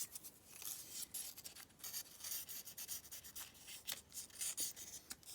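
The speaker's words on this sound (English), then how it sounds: "is just polishing your pick, doing the edges" Soft, steady rubbing and rasping as the edges of a Bare Bones lock pick are sanded and polished by hand, with close, rhythmic strokes and no talk.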